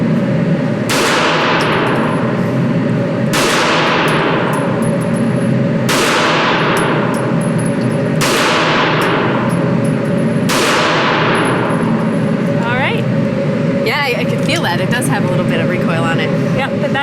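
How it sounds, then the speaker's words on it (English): Shots from a 9mm handgun at an outdoor shooting range, five loud evenly spaced reports, each followed by a ringing decay, over steady background noise with some voices near the end. "This is a 9mm, so it's going to have a little more recoil"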